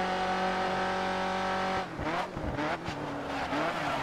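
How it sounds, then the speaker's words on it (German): A Ford GT in GRID Autosport holds a steady engine note, then breaks into drifting with squealing, skidding tires and wavering engine pitch, loud and close with no talk. "Jetzt fängt der Wagen richtig an zu driften."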